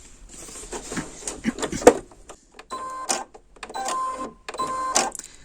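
A sewing machine stitches a tote bag in bursts of rapid mechanical clatter, separated by short pauses, close and fairly loud, with no voices.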